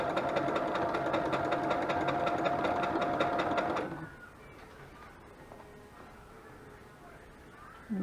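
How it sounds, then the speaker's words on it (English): Sewing machine stitching a straight seam on fabric for a DIY bag, a loud close steady whirring hum for about four seconds, then stopping into quiet room tone. "Just sew a straight line down that side."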